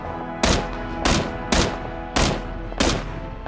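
Five loud, sharp gunshots in PlayerUnknown's Battlegrounds ring out at roughly even intervals, each with a short echoing tail.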